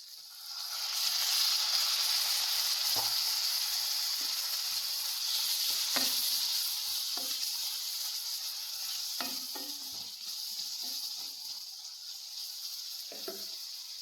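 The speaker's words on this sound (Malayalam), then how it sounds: "കുറച്ച് വിനാഗിരി ഒഴിച്ചു കൊടുക്കുക" Vinegar hits a hot pan of star fruit (chambakka) pickle and sets off a steady, bright sizzle, close and continuous, with occasional soft knocks of stirring.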